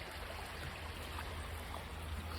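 Creek water flowing beneath a large overhanging tree at a gold prospecting spot by decomposing bedrock, a steady close rushing wash with no breaks.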